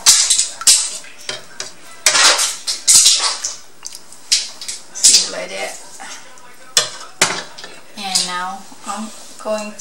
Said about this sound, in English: you're going to scoop some of the soup and the meat in there